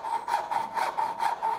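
A hand saw cuts wood for a dovetail joint in steady back-and-forth rasping strokes, about six close, even passes in quick rhythm with no talk.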